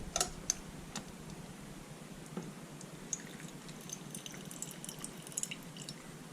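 Nettle juice drips through a sieve lined with gauze into a small bowl, making sparse, faint, irregular ticking drips over quiet background noise.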